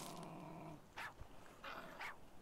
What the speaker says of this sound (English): Oh, wait, there's another dog.